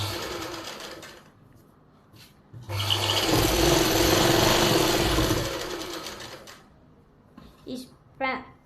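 A sewing machine runs in one steady, close burst of a few seconds while stitching the fabric lining of palazzo pants, with quieter handling and a brief voice before and after.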